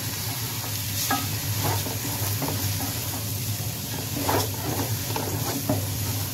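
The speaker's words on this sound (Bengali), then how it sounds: "এখন আমি এটাকে সুন্দর মতন ভেজে নিব।" Rice sizzles in a pot with ginger and garlic paste, a continuous frying hiss broken by scraping stirs at irregular intervals, close and steady with no talking.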